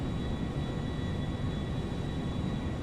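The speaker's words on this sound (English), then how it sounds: "We are clear for takeoff." A steady, dense roar from a Boeing 737 MAX 9 jet taking off in GTA 5 stays at an even loudness throughout, with a faint high whine over a low rumble.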